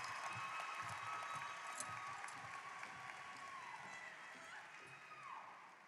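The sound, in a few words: audience applause at a high school graduation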